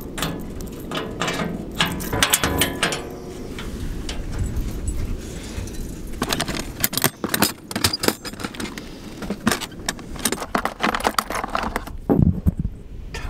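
Small metal tool clicking and ratcheting as a valve core remover unscrews tire valve cores to let air out of the tires, a run of close, irregular metallic ticks and rattles with rustling and a louder burst near the end.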